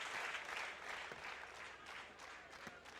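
Spectators at a men's beach volleyball match in Rome clap steadily, a faint, even wash of crowd applause with scattered sharper claps.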